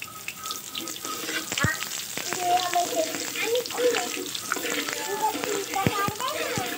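Bay leaf, five-spice and dry chillies sizzle in hot oil with a steady crackling fry and sharp pops. A voice speaks over it.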